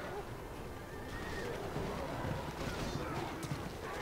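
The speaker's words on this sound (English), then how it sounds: "Take the horses this way!" Horses neigh amid the noisy battle soundscape of the video game The Battle for Middle-earth. A whinny rises out of a dense, constant wash of clatter, hoofbeats and wind-like rumble, at a moderate distance.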